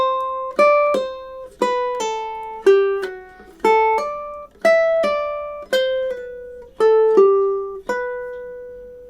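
A ukulele plucks a bright, clear passage of the Nutcracker March, with a steady run of single notes and short chords falling in an even rhythm. It is played solo and close, with no voices.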